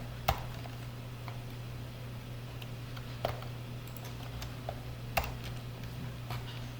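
Typing on a computer keyboard while writing an SQL count query, a steady patter of light key clicks with a few sharper, louder strokes spaced through, close up over a low steady hum, no talking.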